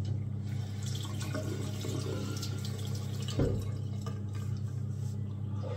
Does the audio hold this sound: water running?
yes